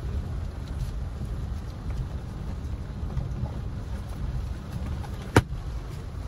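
Heavy rain pours steadily in an outdoor street setting, a dense, continuous low roar with one sharp close knock near the end; no voices.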